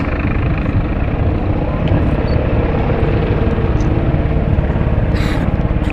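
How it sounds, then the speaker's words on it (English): An A109 helicopter arrives over the airfield at the Omaka Airshow with a constant, heavy rumbling drone and a low, chopping throb that stays loud throughout. "it's actually the A109 that's arrived over the fence first"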